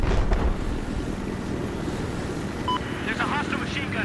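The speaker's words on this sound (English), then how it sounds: "I spotted an enemy helicopter." A steady, dense rotor-and-engine roar from an enemy helicopter in the video game Battlefield 4 fills the mix continuously, with faint chatter and small game sounds layered over it.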